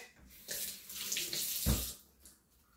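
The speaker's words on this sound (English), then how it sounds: "So the milk is there bubbling itself." Coconut milk bubbling on a stove while making dumplings: a soft, watery rushing and gurgling that swells and fades over a couple of seconds, with one louder low burst, heard alone.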